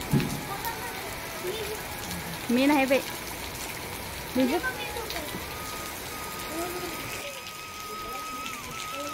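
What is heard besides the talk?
rain falling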